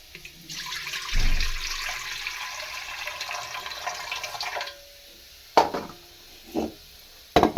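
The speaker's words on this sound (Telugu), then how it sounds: "నీళ్ళతే వంపేసుకున్నాం" Water from soaked moong beans is poured off in a steady splashing rush for several seconds. A few sharp knocks of a vessel follow, and no one speaks.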